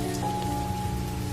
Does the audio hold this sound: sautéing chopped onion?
no